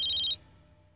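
A telephone rings in a short electronic trill for about a third of a second, then cuts off into a faint, fading tail in a quiet room.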